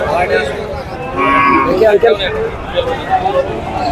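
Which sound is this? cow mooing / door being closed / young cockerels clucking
cow mooing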